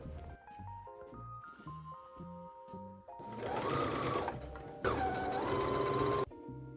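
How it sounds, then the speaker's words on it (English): A sewing machine stitches a straight line through fabric for a skort, starting with a few short stitch bursts and then running in two steady, loud whirring stretches, with no talking. "we will sew a straight line"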